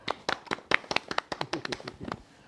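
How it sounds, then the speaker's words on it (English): Genuine handclapping from a small group on a dating-show follow-up set, with sharp, irregular claps in a loose, uneven rhythm close by and no talking. "So just, round of applause for that."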